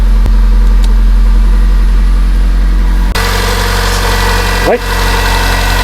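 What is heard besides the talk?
Mitsubishi Lancer car engine idling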